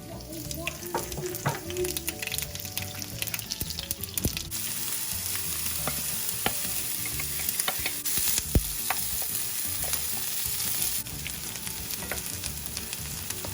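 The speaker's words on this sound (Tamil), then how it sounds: "அப்புறம் நான் இந்த காஞ்ச மிளகாயை சேர்க்குறேன்." Dried red chillies fry in hot oil in a nonstick pan with cumin and mustard seeds, giving a steady close sizzle with scattered pops and occasional stirring scrapes throughout.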